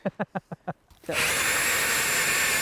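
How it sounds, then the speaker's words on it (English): An ice auger bores a hole into frozen lake ice for ice fishing, loud and continuous grinding after a few short rhythmic thumps at the start. "you lead the way in drilling the hole and all the rest"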